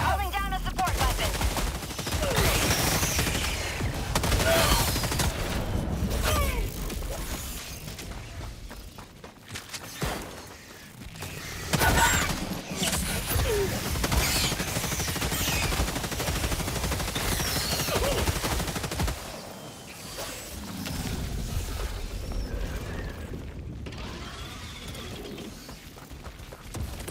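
A laser machine gun in the Helldivers video game fires in sustained rapid bursts, loud and close, with brief pauses and chaotic battle noise throughout.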